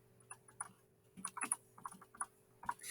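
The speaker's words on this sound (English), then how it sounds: "I'm just going to go ahead and type it in" Computer keyboard typing in quick irregular bursts of crisp clicks, close and fairly quiet, with short pauses between groups of keystrokes and no talking.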